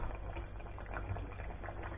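A pot of Menorcan oliaigua soup boils vigorously, with a dense, steady bubbling and popping close by that stays constant, with no talking over it.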